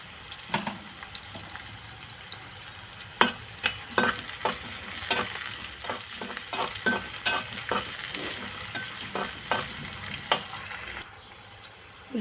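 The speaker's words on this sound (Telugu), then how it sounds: "ఉల్లిపాయలు లైట్గా ఫ్రై అయిపోయినాయండి." Onions fry in a pan with curry leaves for a drumstick and tomato curry, a steady sizzle broken by repeated scraping stirs of a spatula, close and fairly loud, then quieter for a moment near the end.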